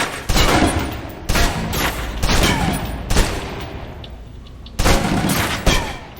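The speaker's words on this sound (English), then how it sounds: "Now, let's move on to the submachine gun. Now let's empty the clip." Submachine gun fire in the video game Alpha Protocol, several loud sustained bursts of rapid shots with short pauses between them, close and punchy.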